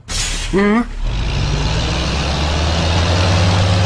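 Buses pull up in an animated series, with a loud hiss of air brakes and steady engine rumble. A short voice cry comes first, then the noise runs continuously and fills the scene.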